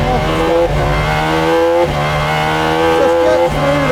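The McLaren Solus GT single-seat hypercar's 858bhp V10 screams up through the revs from close by, climbing in pitch with quick gear changes and brief dips between rising pulls.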